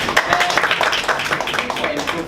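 A brief burst of dense clapping from a small group at a Toastmasters speech evaluation session, close and continuous for about two seconds with voices mixed in.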